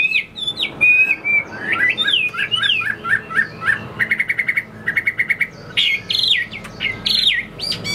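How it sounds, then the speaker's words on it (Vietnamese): A caged hwamei songbird sings loud, varied phrases of clear whistles and rapid repeated chirps, with short trills and squawky notes, close by against a faint background hum. "Chim rất là đều mỏ luôn."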